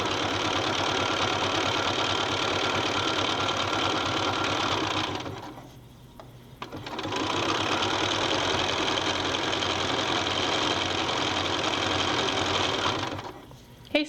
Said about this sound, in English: I'm going to sew these two together and then add on the next two and just chain piece those